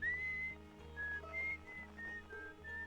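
Whistling from the VR version of the video game Outer Wilds: a steady, clear whistled melody of held notes over a constant low musical drone, moderately loud and with no talking.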